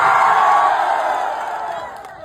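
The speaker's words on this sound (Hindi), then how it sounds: "मैं चाहता हूं उस भाई के लिए एक जोरदार हल्ला करके ताली से बजाइए।" A large crowd at a live stage show in Bhagalpur roars and cheers loudly, a dense continuous wash of voices that fades slightly over two seconds.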